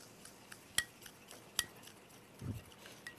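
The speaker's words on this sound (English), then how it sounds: "I'm going to go ahead and stir it because I want the baking soda to dissolve right here" A metal spoon clinks against a bowl while stirring baking soda into a mixture for mac and cheese, two sharp taps then a soft scraping swirl and a final light tap, close and quiet with no talk.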